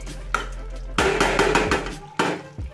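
A spoon scrapes and knocks through chicken kosha in a cooking pan, three bursts of clattering stirring separated by short pauses, close and fairly loud over a low kitchen hum.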